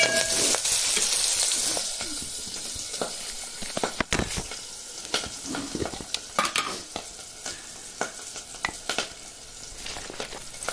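Curry leaves hit hot oil with a loud initial burst of sizzling that settles into a steady hiss, punctuated by frequent sharp clicks and scrapes of a spoon stirring in the pan.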